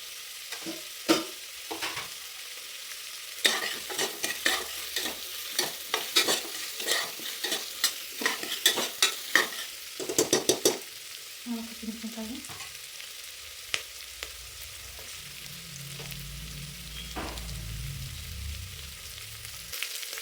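Onions and green chillies frying in a pan for wheat pongal: a sharp, uneven burst of stirring scrapes and clatter up front, settling into a quieter low sizzle with a few light knocks.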